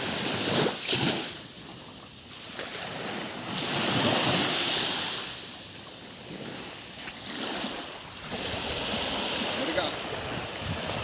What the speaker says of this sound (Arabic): الحاجة بحبها صوت المية، صوت البحر،